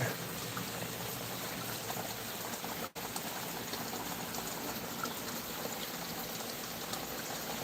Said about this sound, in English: Get some water on there.